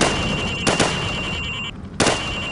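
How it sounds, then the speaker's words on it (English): Rifle shots fired from the hip at targets in Call of Duty 4: Modern Warfare, a couple of sharp, loud cracks separated by about a second, with no talking. "Now shoot at the targets while firing from the hip."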